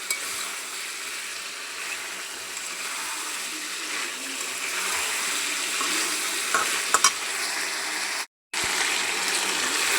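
Chicken pieces and new potatoes sizzle steadily while being stirred in a hot pan, with a continuous frying hiss and a few scraping clicks, broken by one brief gap near the end.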